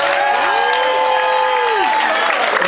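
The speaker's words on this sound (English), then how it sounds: "let's give Liam a big round of applause" A crowd applauds and cheers for Liam at a farewell send-off, a loud continuous wash of clapping with a rising whoop or sung tone riding on top for about a second.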